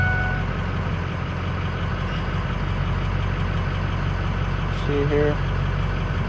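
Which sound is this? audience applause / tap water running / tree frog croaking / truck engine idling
truck engine idling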